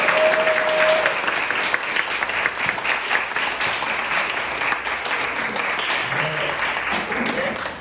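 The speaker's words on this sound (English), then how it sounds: "I think that we should also do a round of applause for our editor" A room full of people applauds an anthology editor at a book launch for poetry, essays and stories, steady close clapping that stays even throughout, with a brief voice near the start.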